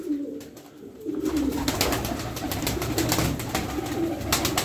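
Young game pigeons coo nearby, soft rolling calls repeating from several birds with faint rustling and clicks around them.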